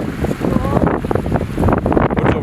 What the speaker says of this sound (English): What do you think of this waterfall?